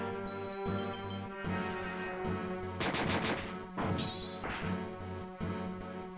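Magic missile spell effect in the Tactics Ogre video game: a few crashing, bright impact bursts laid over sustained tonal background music.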